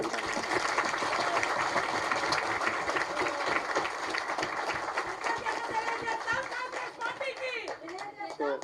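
Applause from an audience at a political meeting of the Chief Minister with SC leaders: dense, steady clapping from a large crowd rings for several seconds, thinning toward the end as a voice carries on over it.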